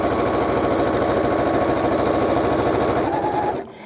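A Janome embroidery machine stitching at a steady, rapid mechanical chatter, close and loud, running evenly before cutting off abruptly near the end.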